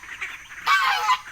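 Peking ducks and geese at a feeding call out with nasal honks and quacks, a faint murmur first and then a louder close burst of overlapping calls.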